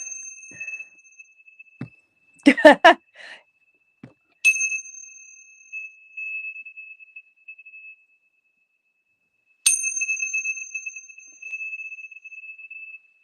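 Bells rung in two separate strikes, each leaving a clear, sustained metallic ring that slowly fades, preceded by a brief clatter of handling; no talking.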